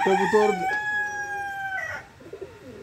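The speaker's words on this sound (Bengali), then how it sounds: "আমি মনে করছি মুরগি ঢুকে নাই, দেখি যে মুরগি ঢুকছে।" A chicken inside a pigeon coop gives a loud, drawn-out crowing call close by, followed by softer clucks and rustling.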